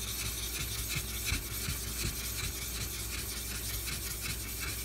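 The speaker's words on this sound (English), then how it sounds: "I'm going to go ahead and flatten this stone" Sharpening whetstone being flattened by rubbing, a continuous gritty scraping rasp with slight rhythmic strokes, close and fairly quiet, no voices.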